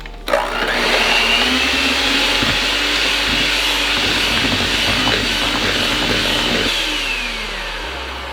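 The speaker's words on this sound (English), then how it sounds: "So I'm going to use my mixer on medium speed until the cream cheese and the other ingredients are well blended." An electric hand mixer whirs steadily on medium speed through a cream cheese mixture for an Oreo cheesecake, a loud, continuous motor drone that runs unbroken for several seconds before easing slightly at the end.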